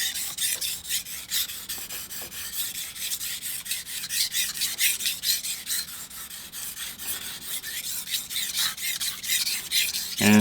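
A knife blade scrapes back and forth across a King whetstone of 1000 grit in steady, rasping strokes, close and continuous, each pass running into the next with no voices.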